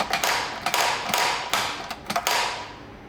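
The lever of a barista's coffee grinder being pulled repeatedly, giving a series of creaking, clicking mechanical strokes at close range with no voices.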